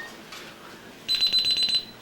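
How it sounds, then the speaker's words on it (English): Door alarm in a rural residence, going off when a cabinet door opens: a shrill electronic beeping in a rapid pulsing burst lasting under a second, loud and close against a quiet room. "the alarm will sound whenever the door is opened"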